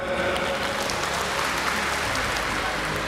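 Applause from an audience at a university public lecture, a steady, even wash of clapping filling the room with no breaks.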